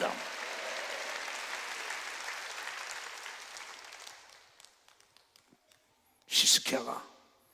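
Church congregation applauding at a Wednesday worship service, a sustained wash of clapping that fades out, then a short loud burst of clapping near the end.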